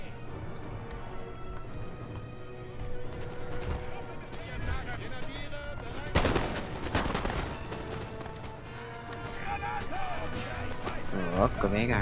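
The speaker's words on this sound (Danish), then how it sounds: "Det er da idiotisk mange skud I tager her." Scattered musket gunshots crackle in a noisy Napoleon: Total War battle scene, with a heavier volley midway, under voices talking and a busy game soundtrack.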